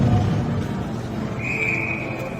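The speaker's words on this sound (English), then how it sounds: "it's going to be whistled down with the possession given back" A referee's whistle sounds in a youth ringette game, one steady, fairly loud blast lasting almost a second, cutting through the low rumble of an arena crowd.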